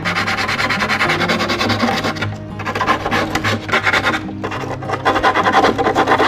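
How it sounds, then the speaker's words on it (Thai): Wood is sanded smooth on an acoustic guitar cutout, a loud, close scraping and rasping made in quick back-and-forth strokes, with a couple of brief pauses between bursts. "ก็หลังจากที่ เรา ตัดได้ขนาดแล้วก็ ทำการขัดนะครับ พื้นผิวให้เรียบ"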